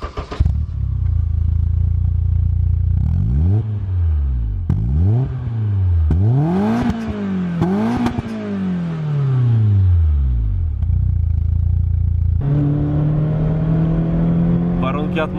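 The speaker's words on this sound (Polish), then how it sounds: "Tak brzmi silnik przy odpaleniu." A 32-year-old BMW M3 E30 engine cranks and fires, then several sharp revs rise and fall in a rhythmic series before settling into a steady, slightly raised idle, close and loud.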